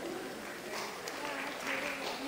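Church congregation applauding, a dense, soft, steady wash of clapping heard from a distance, lasting a couple of seconds.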